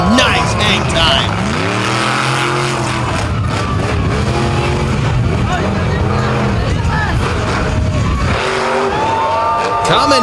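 An 11,000-pound monster truck on a Patrick chassis performs at a beach show, its engine roaring loud with rising and falling revs, under crowd babble and an announcer talking.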